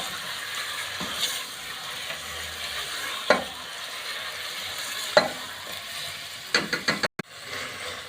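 Mutton frying in a pan, a low steady sizzle with occasional stirring scrapes and a few sharp clacks of a utensil near the end.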